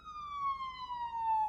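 A siren on an emergency vehicle passing outside sounds a single long, clear wailing tone that slowly falls in pitch as it goes by, alone and fairly loud.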